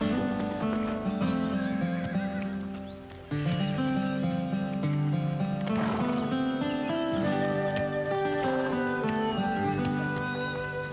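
Horses neigh and hooves clip-clop in an animated pony-club series, set under steady, prominent background music throughout.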